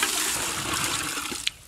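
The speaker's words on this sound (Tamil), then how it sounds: "இப்ப தண்ணி ஊத்திக்கலாம்." Water poured over pieces of vanjaram (Spanish seer) fish soaking in a vessel for biryani; a steady rushing, splashing pour that runs throughout, ending with a brief sharper splash.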